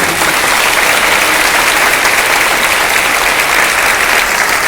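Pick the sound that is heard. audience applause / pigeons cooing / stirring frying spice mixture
audience applause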